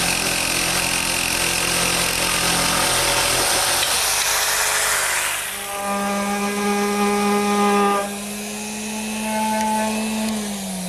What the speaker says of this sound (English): I'm going to use my handheld jigsaw to make both the straight and the curved cuts